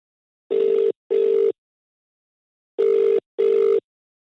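A telephone ringback tone sounds while a call is placed on a Telugu television show; four clean buzzing bursts come in two pairs separated by a pause, clear and alone with no voices.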